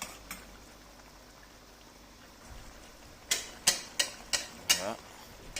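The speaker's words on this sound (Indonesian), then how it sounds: "Kita aduk terus." A spoon stirring chicken gulai curry in a pot, quiet background at first, then a run of five or six sharp scraping clacks in quick succession near the end.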